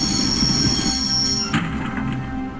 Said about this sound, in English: I always wanted to stop a train, and now was my chance.